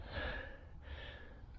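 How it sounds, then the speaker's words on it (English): Heavy breathing of a man who has given up vaping, out walking on a battlefield site: two long, rushing breaths, an inhale then an exhale, close to the microphone with no talk. "You might hear my breathing, guys."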